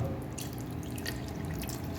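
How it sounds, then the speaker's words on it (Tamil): Water trickles and drips into a pot of simmering mutton spleen (goat suvarotti) gravy, a faint, steady liquid sound close by with no talk. "கொஞ்சம் தண்ணி ஆட் பண்ணிக்கிறேன்"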